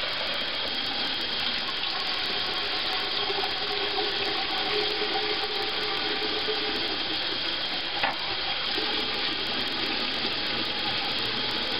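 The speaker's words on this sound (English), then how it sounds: "I'm going to fill that keg most of the way with cold water" Cold tap water runs steadily at a sink into a Corny keg, a constant loud splashing rush with one brief knock partway through and no talking.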